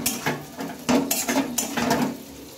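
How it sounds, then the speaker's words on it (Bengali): Parboiled potatoes with a little turmeric are turned in a pan, giving loud, close clatters and scrapes of a utensil against the metal in a few quick strokes, and no speech. "ভালোভাবে একটু নেড়ে চেড়ে নেবো।"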